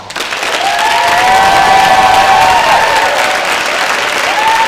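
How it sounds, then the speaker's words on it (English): An audience at a junior creative writing reading applauds the student readers, a loud, sustained round of clapping with some cheering, a whistle-like tone running through it. "let's give them another round of applause"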